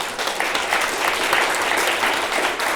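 Sustained applause from a seated audience for the speakers at a book talk, dense and even clapping that carries on at a steady level throughout.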